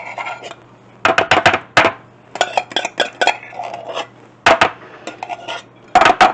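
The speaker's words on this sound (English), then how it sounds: "we're going to add both of our can of cream of celery and our can of cream of mushroom soup to a bowl" Canned cream of celery and cream of mushroom soup scraped out into a bowl, with repeated loud, close metallic scrapes and clinks of a spoon against the can, in short bursts separated by brief pauses.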